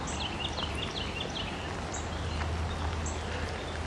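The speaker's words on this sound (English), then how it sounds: "But you hear the happy birds." Birds, including robins, chirping and calling over a steady hiss of falling rain, with a low rumble underneath; the calls are fairly faint and scattered.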